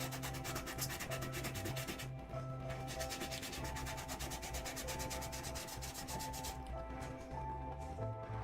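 A brush scrubs acrylic paint onto canvas with a continuous, close, rhythmic rubbing. The dry scratchy strokes repeat rapidly with a steady back-and-forth texture.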